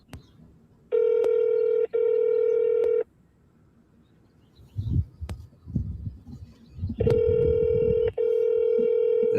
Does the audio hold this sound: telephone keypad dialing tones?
yes